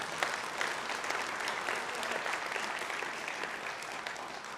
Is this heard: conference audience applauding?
yes